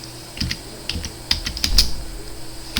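Keys clatter on a computer keyboard as a command is typed into a Windows 11 command prompt, a quick run of close, crisp taps with short pauses and no talking.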